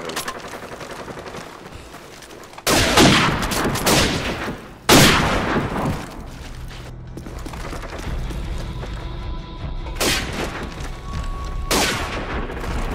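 Gunfire in the video game Call of Duty 4, loud bursts of rapid shots in several clusters, followed by quieter game sounds.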